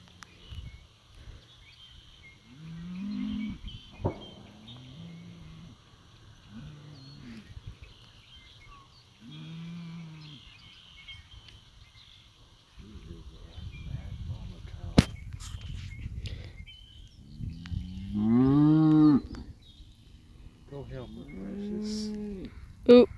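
Cattle low and moo repeatedly in a field where eagles are attacking a calf, several loud bellows spaced across the scene with a mother cow calling, and people talking over the animals in the later part.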